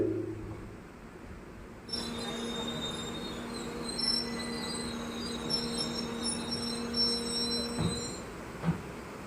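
The Mysuru–Kochuveli Express pulls out of Kayamkulam railway station, a steady close rumble of rolling wagons with a low hum, high metallic wheel squeals and occasional clanks, no voices.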